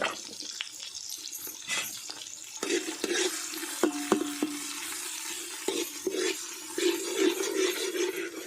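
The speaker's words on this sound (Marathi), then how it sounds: "यामध्ये एक कांदा घालते सुद्धा आपल्याला भाजून घ्यायचा आहे चांगला" An onion roasts in a pan for a village-style mutton curry cooked over a wood-fired stove, with a steady soft sizzle and occasional stirring clinks and scrapes, fairly quiet and close.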